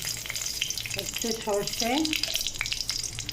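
Dried red chili and mustard seeds fry in hot oil for aubergine curry, giving a steady close sizzle with crackles while a voice speaks briefly over it.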